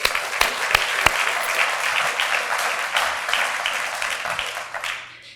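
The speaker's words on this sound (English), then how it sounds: "Now that deserves an applause." A city audience at a State of the City presentation gives the police department a warm round of applause, a dense, even clapping with a few sharp near claps that gradually fades out at the end.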